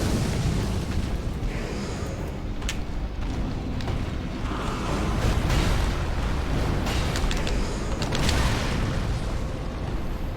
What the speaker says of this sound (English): Explosion's difficult to get away from, but also it doesn't do that much damage, all told.